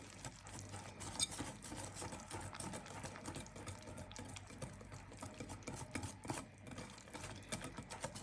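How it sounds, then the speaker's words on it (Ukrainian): Pie batter being stirred briskly in a bowl, a continuous wet, slapping scrape with a quick uneven rhythm, close and fairly quiet, with no voices. "Все перемішуємо. Перемішуємо помішуємо."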